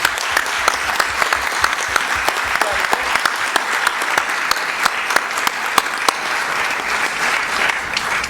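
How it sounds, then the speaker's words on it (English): Sustained applause from a crowd at a board of education meeting, dense clapping that stays fairly even throughout, with a few sharper claps standing out. "One more round of applause for them."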